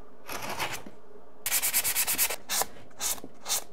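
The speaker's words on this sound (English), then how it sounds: "I'm gonna very carefully use a chisel to try and take some of this mud out of here" A chisel scrapes drywall mud out of an inside corner in a stairwell renovation, giving close, gritty rasping strokes: one longer pass, then a run of rhythmic scrapes and a few short separate ones.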